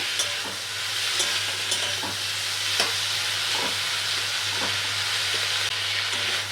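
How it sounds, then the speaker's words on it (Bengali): Shrimp stirred into softened pointed gourd in a pan fry with a continuous close sizzle, broken by scattered scraping clicks from the spatula at an irregular pace. "চিংড়ি মাছটাকে দিয়ে একটু নেড়ে নেব"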